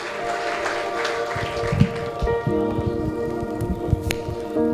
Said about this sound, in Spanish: dele una ofrenda de palmas fuerte al Padre, al Hijo y al Espíritu Santo